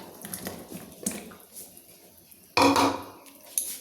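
Chopped bottle gourd is tipped into a pot of mixed dal, soft clinks of utensils followed by a louder clattering splash near the end, close by.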